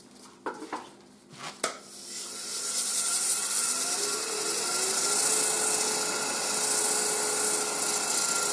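A rustic birdhouse ornament of soft, punky wood is sanded while spinning on a lathe: a few sharp knocks at first, then a steady, close rasping hiss over the motor's faint hum.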